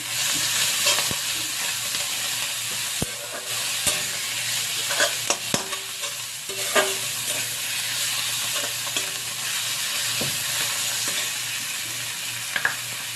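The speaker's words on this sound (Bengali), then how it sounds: "কচু পাতাটা একটু ভাজা ভাজা করে নিচ্ছি" Taro leaves fry in hot oil with a whole-spice tempering, turmeric and salt, a continuous close sizzle broken by frequent clicks and scrapes of stirring in the pan.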